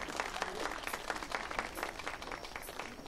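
An audience at a cultural arts performance event claps in steady applause, many hands at a moderate distance, fairly quiet and sustained throughout.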